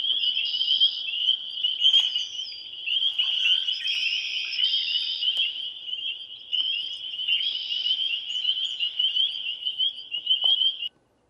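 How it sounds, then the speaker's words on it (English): Spring peeper frogs call together on a March evening, a dense chorus of high, shrill peeps that fills the clip steadily at fairly close range and cuts off sharply at the end. "Those are the springtime peepers"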